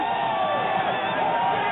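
A basketball arena crowd of more than 14,000 at the 1989 LSU vs Georgetown game cheers and roars steadily, a loud, dense, muffled din from an old broadcast.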